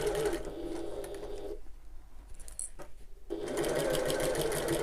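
A sewing machine stitches across a Half-pint Hobo bag piece in a steady whirring run, pauses for about two seconds while something is handled, then runs again for a short backstitch burst.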